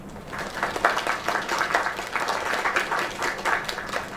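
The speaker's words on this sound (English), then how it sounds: "Another round of applause." Crowd applause in the video game Lake, a dense continuous round of clapping that stays fairly loud and even throughout, with no talk over it.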